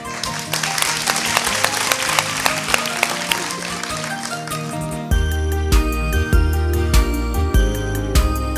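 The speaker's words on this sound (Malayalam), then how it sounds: "മോൾക്ക് വേണ്ടി ഒരു വലിയ കയ്യടി" Audience clapping for a young girl after her performance at a Christmas stage show, a dense wash of applause that gives way midway to a loud, steady musical accompaniment with a pulsing beat.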